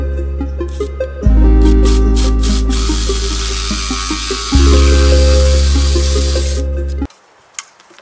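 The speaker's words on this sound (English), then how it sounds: "I'm going to give it a try with this reciprocating saw" Reciprocating saw cutting in two long bursts, each a loud steady droning buzz with rasping strokes running about three seconds, stopping abruptly near the end followed by brief quiet handling noise.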